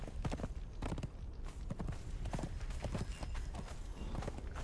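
Hooves of a horse gallop in the video game Conan Exiles, a rapid continuous clip-clop of hoofbeats, close and steady over a dense background of game noise.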